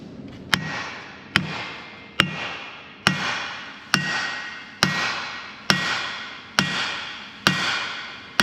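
Hammer blows on the blade center joint of a John Deere 450G dozer under rebuild, about ten evenly spaced metallic strikes, each ringing briefly before the next one lands.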